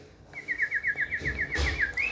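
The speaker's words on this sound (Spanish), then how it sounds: "Acá hay un canario todavía" A canary's song plays as a sound effect in a sound-box app built with App Inventor: a fast run of repeated, slightly falling whistled notes, clear and fairly close, with no talking over it.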